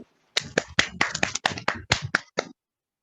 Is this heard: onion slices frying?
no